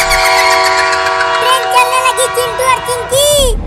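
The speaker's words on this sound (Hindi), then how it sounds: "तुम सब थोड़ा थोड़ा पीछे हो जाओ, ट्रेन यहीं रुकेगी।" A cartoon train pulls into a station and halts, with loud sustained horn-like tones, rumbling wheels and a rising squeal of brakes at the end, heard close and dominant.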